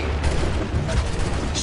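A musket volley in Assassin's Creed 3 bursts out as a dense, continuous crackle and rumble of many shots, loud and sustained throughout.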